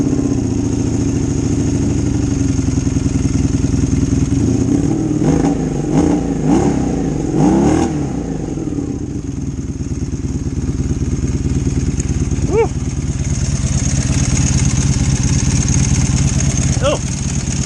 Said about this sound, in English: so I fired up the bike. She was not happy.